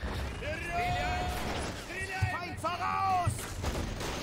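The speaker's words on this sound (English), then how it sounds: "Shots going everywhere. Tanks are being thrown here and there." Gunfire and tank cannon blasts in the World War II strategy game Men of War: Assault Squad 2 on the Seelow Heights map, scattered shots and a couple of heavy thumps beneath steady commentary.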